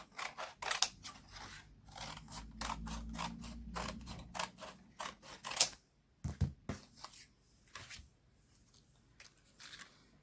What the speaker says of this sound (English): I'm just going to trim away some of this excess.